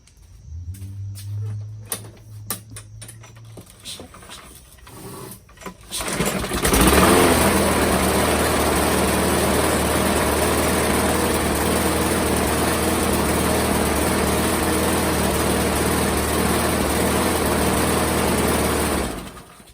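Craftsman lawn mower with a Briggs and Stratton engine that runs poorly: clattering pulls and sputters at first, then it catches and runs loud and steady close by for about twelve seconds before cutting off.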